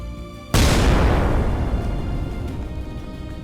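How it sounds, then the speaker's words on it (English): A single powerful artillery shell explosion bursts suddenly on a battlefield, then a deep rumbling roar slowly decays over the next few seconds. "after a powerful shell explosion, the enemy flies up into the air"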